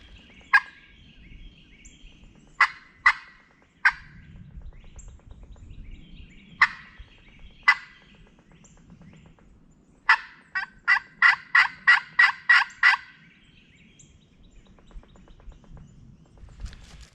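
Wild turkeys gobble during the Virginia spring hunting season, scattered loud close calls and then a rapid run of about seven gobbles in a row, alone in quiet woods.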